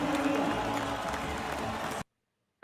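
A basketball arena crowd of Mavericks fans makes a steady, dense roar that sounds slightly muffled and distant. It holds for about two seconds, then cuts off abruptly.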